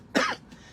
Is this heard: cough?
yes